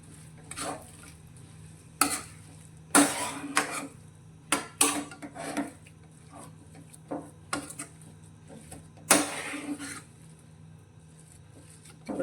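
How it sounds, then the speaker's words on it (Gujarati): Poha kachori stuffing with coriander and lemon juice mixed in a pan, scattered scraping and clinking strokes of a spoon against metal, separated by quiet pauses, close and moderately soft. "બધું એકવાર સારી રીતે મિક્સ કરીશું"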